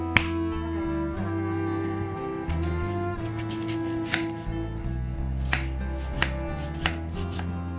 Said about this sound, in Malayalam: അപ്പോൾ നമുക്ക് ഈ ഫ്രൂട്ട്സ് ഒക്കെ വേഗം ചെറുതായി കട്ട് ചെയ്തെടുക്കാം